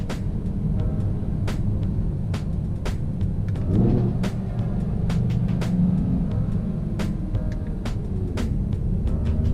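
A 2017 Audi R8 V10 Plus drives along with a steady low engine and exhaust rumble, sharp exhaust crackles and pops scattered irregularly throughout, heard from inside with no talk.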